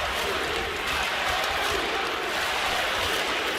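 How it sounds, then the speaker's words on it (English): Hockey crowd at a 2022 NCHC Frozen Faceoff semifinal game, a steady broad roar of cheering and applause from a large arena audience, continuous and moderately loud throughout with no clear breaks. "Hear the crowd getting behind"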